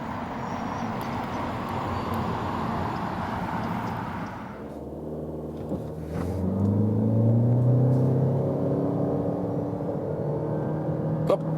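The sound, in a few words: Toyota Corolla 2-liter hybrid accelerating from 0 to 70 km/h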